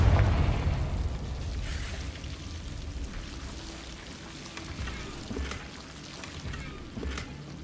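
A Confringo explosive spell blasts in Hogwarts Legacy, a heavy booming burst at the outset that decays into a lingering low rumble with faint crackles and scattered pops.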